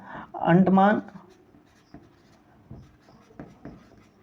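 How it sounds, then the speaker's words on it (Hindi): Handwriting during a lesson on Indian states and union territories: a brief voice is followed by faint, scattered pen strokes and scratches. "तो यहाँ पर हम लोग तीसरे स्थान पे लिख लेते हैं"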